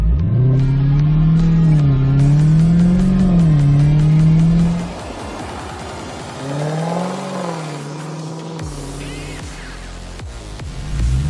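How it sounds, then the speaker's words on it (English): A Dodge Challenger muscle car's engine revs loud and close, rising and falling in pitch in two strong pulls, then gives a short whirring burst near the end. "a Dodge Challenger, and I was impressed by the way it handled, the acceleration, and especially the sound"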